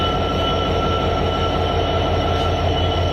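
A passenger train stands at Tangail station before departing, giving a steady, close, dense mechanical rumble with a high whine and no voices.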